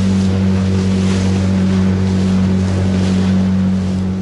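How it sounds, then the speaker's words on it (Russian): Rough water churns and splashes against a fishing boat on a windy day over a steady motor hum, with waves surging loudly and constantly close by. "Смотрите, какие волны, ребят."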